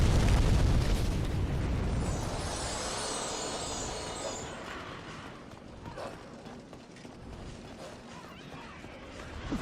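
A deep, roaring fiery rush from a fire-breathing enemy in Demon's Souls swells loudly at the start, then decays into a sustained rumbling hiss that fades steadily over several seconds.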